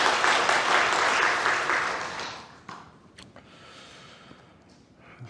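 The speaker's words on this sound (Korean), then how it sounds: "우리 박수로 한 번 더 하나님께 영광 돌리겠습니다" A church congregation at a Sunday worship service applauds in praise, a dense burst of clapping lasting about two seconds, then dropping away to scattered claps and quiet room noise.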